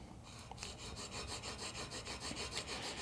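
A brand new chisel is sharpened on sandpaper using the scary sharp method. Quick, even rasping strokes scrape back and forth in a steady rhythm, close and fairly quiet.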